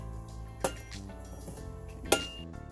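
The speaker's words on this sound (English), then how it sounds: "now we're gonna flip our potatoes" Roasted potatoes turned with a utensil on a metal baking pan, two sharp clinks of metal against the pan among soft scraping and shuffling, close and without speech.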